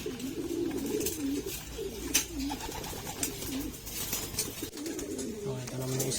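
Pigeons coo steadily and close by in a low, throaty, rolling rhythm. The cooing carries on through the whole stretch with some light rustling and clatter around it and no talk.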